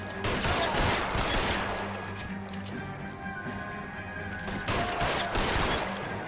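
Dense bursts of video game gunfire from a small gun crackle steadily and loud, with heavier volleys near the start and end and a low rumbling backdrop throughout.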